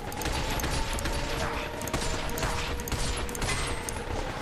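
Dense, continuous gunfire from the Binary Domain shooter game, a steady busy clatter of shots and mechanical noise throughout, with game voices faintly mixed in.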